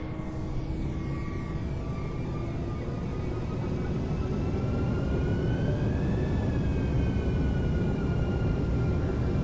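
A Brussels Airlines airliner sits lined up on the runway in Microsoft Flight Simulator 2020. Its jet engines give a steady, loud broadband roar throughout, with faint tonal whines that rise and bend slightly partway through.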